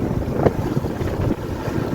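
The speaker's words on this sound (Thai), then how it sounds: "ลมแห้งพี่น้องเอ้ย" Dry winter wind blows hard and close, a steady rushing roar with gusty buffeting against the microphone and no voices.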